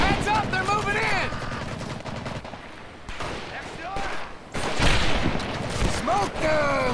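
Rapid bursts of gunfire and booming shots crackle amid shouting voices and whistling effects, loud and chaotic, in the World War II video game Medal of Honor.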